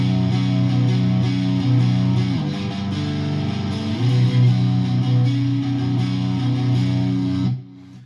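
An electric guitar plays an intro, a steady, sustained, lightly distorted chord pattern that is loud and close, then cuts off abruptly at the end.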